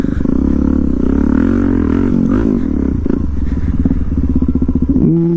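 A Suzuki DR-Z400S dual-sport motorcycle engine chugs loud and close at low revs while the clutch is feathered on technical terrain, its pitch wavering and rising briefly near the end.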